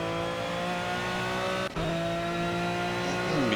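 An Aston Martin Vantage V12 GT3 racing engine in second gear through a chicane in the Project CARS racing game, holding a steady loud high-revving drone with a brief dip at a gear change before climbing again.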